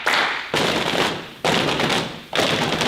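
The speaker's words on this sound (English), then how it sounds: "And tap." Tapping along in a children's musical drum game: four loud, broad bursts, each about half a second to a second long, come at a steady, even pace with no voices between them.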